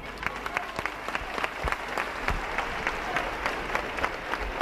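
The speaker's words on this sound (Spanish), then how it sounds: "Escucháis los aplausos de la gente al alcalde de Ermua." Crowd at a street protest against ETA violence in Ermua applauding the town's mayor, a fairly distant, sustained patter of many hands with a few sharper individual claps standing out.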